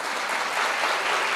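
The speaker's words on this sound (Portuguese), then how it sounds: "Palmas para o Mauro." Steady audience applause at a lecture, a dense, even wash of clapping from a crowd that holds at a loud level for the whole short stretch, with no voices over it.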